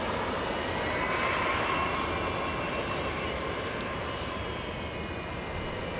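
Singapore Airlines flight 38 jet arrives at Los Angeles International Airport, a steady, faint distant engine roar that holds evenly and fades slightly toward the end.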